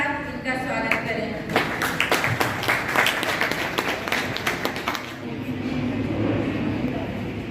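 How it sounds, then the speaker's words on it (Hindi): An audience at a college National Youth Day event breaks into loud, dense applause, with many hands clapping at once. The clapping thins out and fades toward the end, and a steady hum continues underneath. "जोरदार तालियों के साथ इनका स्वागत करें।"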